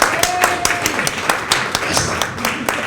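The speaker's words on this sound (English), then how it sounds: "Let me hear you clap if you have kids." Comedy club audience clapping in response to a call from the stage, a dense patter of hand claps with sharp individual slaps standing out, fairly close and steady throughout with a little background voice.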